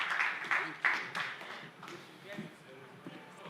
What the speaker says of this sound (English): let's give a warm applause to the panelists